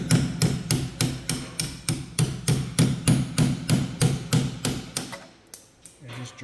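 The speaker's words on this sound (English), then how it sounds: "let me just get a hammer and punch and knock that through" A hammer strikes a punch to knock out a broken, rusty car sensor, making a steady run of about eighteen loud metallic blows close by at a regular pace, then a pause and a few final hits.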